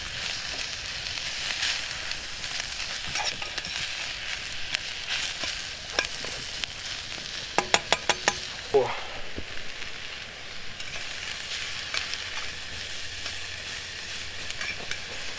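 Ribeye fat end pieces fry in a pan over an outdoor campfire with a continuous crackling sizzle. A short burst of metallic taps and a brief scrape come in midway, and the frying continues beneath them.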